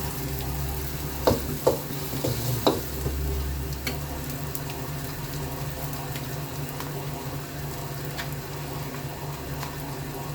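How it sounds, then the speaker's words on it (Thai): Palm sugar simmering and being stirred in a pan while making Thai pork stew, a steady soft bubbling sizzle with a few scraping stir clicks early on, under a constant low background hum. "น้ำตาลปิ๊บพัดเคี่ยวให้มันหอม"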